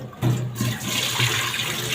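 Lentils being rinsed in water, a loud close rush of pouring, swirling water that runs continuously through the short clip, with no talking.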